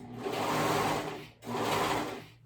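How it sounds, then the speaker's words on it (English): A serger stitches around the shoulder seam of a kids' cardigan, running in two steady, close bursts of whirring machine noise with a brief pause between them. "we're gonna go ahead and sew around that whole shoulder seam"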